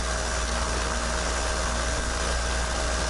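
A paramotor engine holds a steady cruise at about 5,000 RPM, a loud and continuous droning roar with a constant pitch and no pauses.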